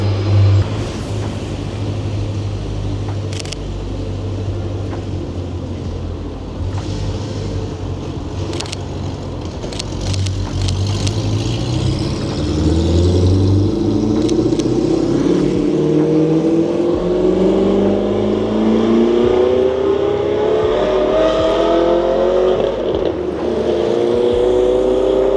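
A large vehicle engine starts and revs inside a multi-story car park in Glasgow, a deep rumbling idle that climbs through repeated rising revs, echoing off concrete and heard from a distance.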